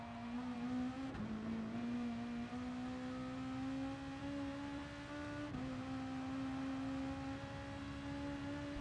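A race car engine from Gran Turismo Sport at the Nurburgring 24h circuit drones loudly and steadily. Its pitch climbs as it accelerates, drops briefly on two gear shifts, then rises again, with no talk.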